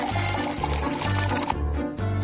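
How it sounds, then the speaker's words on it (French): Water poured onto a plate in a kitchen, a steady gurgling, splashing stream that runs continuously at close range with a rhythmic bubbling pulse. "moi, je verse de l'eau"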